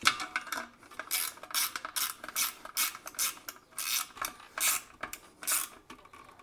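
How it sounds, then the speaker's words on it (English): Nuts and washers being tightened on a Swagman bike roof rack during assembly, heard as bursts of close metallic ratcheting and clicking that repeat in an uneven rhythm, with no talking. "Now let me tighten these down."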